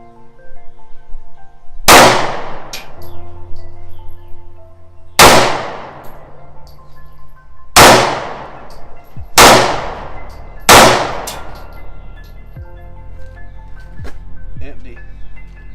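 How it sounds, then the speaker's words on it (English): Five loud, sharp gunshots crack out at an outdoor shooting session, spaced a few seconds apart with the last three coming faster, each followed by a ringing decay, then a couple of faint metallic clinks. "let's shoot some guns real quick"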